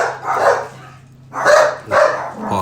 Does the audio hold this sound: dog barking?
yes